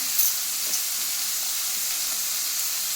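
Chopped vegetables sautéing in a hot pan give a steady, even hiss and sizzle that runs continuously at moderate level, with a couple of faint clinks near the start and no voices.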